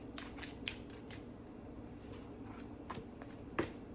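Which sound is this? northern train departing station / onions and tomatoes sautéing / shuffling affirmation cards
shuffling affirmation cards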